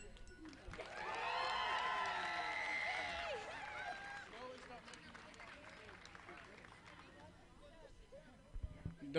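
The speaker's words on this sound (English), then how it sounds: "Give these guys a cheer." Audience at a cosplay contest cheering, with high whoops and shouts rising for a few seconds and then settling into a quieter crowd murmur with scattered claps.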